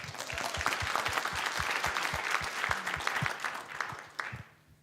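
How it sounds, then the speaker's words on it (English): A modest conference audience at an Agile Africa 2016 talk gives a short burst of applause, steady at first and then fading out near the end, fairly quiet overall. "I think we need to give him a round of applause,"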